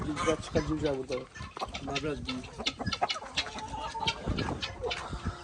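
Chickens cluck and a rooster calls amid village farmyard noise, with people talking loosely in Turkish over the birds throughout.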